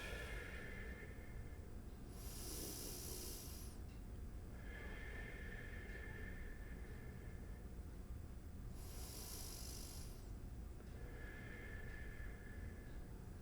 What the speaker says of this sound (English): 3 nice deep breaths